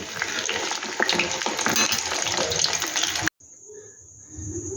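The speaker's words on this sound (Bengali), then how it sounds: "চটপটাগুলো সম্পূর্ণ আমার ভাজা হয়ে গেছে দেখো দারুণ আওয়াজ হচ্ছে" Chotpoti snacks frying in hot oil make a loud, dense, steady sizzle that cuts off abruptly, leaving a quieter, softer crackle afterward.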